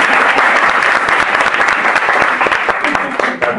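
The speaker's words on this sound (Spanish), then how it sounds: "Un aplauso." An audience breaks into loud, continuous applause during a public-speaking talk, dense clapping from a full room sustained for the whole few seconds without letting up.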